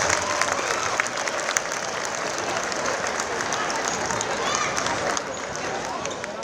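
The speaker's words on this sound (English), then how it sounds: "let's have one more round of applause for the Pierce Township senior cheerleaders and boys basketball players" Sustained crowd applause in a high school gym at a boys basketball game, honoring senior cheerleaders and players: dense, steady clapping and cheering that fills the whole stretch, with faint voices mixed in.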